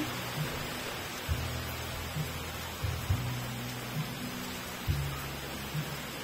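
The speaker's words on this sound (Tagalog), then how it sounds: "sama ng panahon. Maulan." Steady rain falling in gloomy weather, a constant hiss of drops filling the background, with a few low hums and faint knocks nearby.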